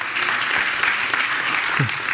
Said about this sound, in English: let's give everyone a big round, I guess, a big round of applause.